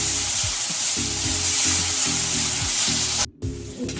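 Tomatoes going into a pan of frying garlic and coconut for chana masala, a steady bright sizzle with rhythmic stirring scrapes, briefly cut off near the end before resuming more quietly.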